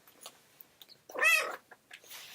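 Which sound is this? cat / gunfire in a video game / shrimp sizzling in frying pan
cat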